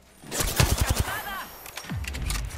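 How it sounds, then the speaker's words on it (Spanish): Rapid bursts of gunfire in Apex Legends, with a quick run of sharp shots early and more shots later, heard close and loud while a voice talks over parts of the fight. "Me están disparando."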